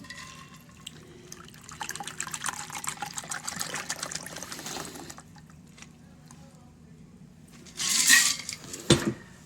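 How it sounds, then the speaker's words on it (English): A shaken cocktail being poured from the shaker into a coupe glass, a steady liquid stream with light clinks, followed by a louder splash and rattle near the end. "Let's now pour it into our prepared coupe."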